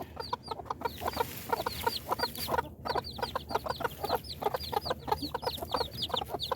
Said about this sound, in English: What are baby chickens doing?